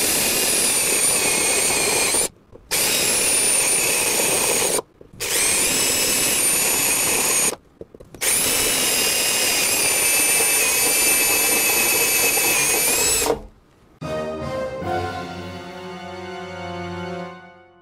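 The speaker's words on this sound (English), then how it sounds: "We're drilling these to 3/8." A power drill bores 3/8 inch holes in a metal tube amplifier chassis, a loud high-pitched whine in four long bursts separated by short pauses, then winding down at the end. No one speaks.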